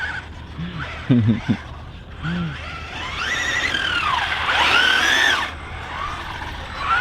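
Maverick Quantum R Flux RC car on 3S power, its electric motor whining up and down in rising and falling sweeps as it accelerates and spins out, with tyre scrubbing and a few short voice sounds early on.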